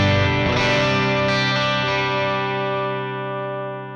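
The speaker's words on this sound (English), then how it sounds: "And back to the overdrive." A sustained electric guitar chord rings out through a Nux Solid Studio with heavy overdrive distortion, bright and buzzy, slowly decaying over a few seconds.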